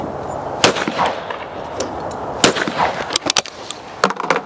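A Beretta 686 Silver Pigeon shotgun firing at clay targets outdoors: two sharp, loud reports spaced apart, then a quicker burst of cracks and clatter near the end, all over faint outdoor background noise.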